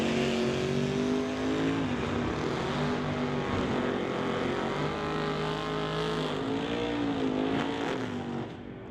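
Drag race cars, including an '81 Malibu, making a full-throttle pass at an NHRA Summit ET event, their loud engines roaring steadily and close for several seconds before beginning to fade at the end.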